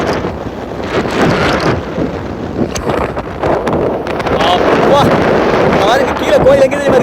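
Strong wind on top of Kondarangi Hill roars and buffets the microphone with constant rumbling gusts, while voices can be heard faintly in the background.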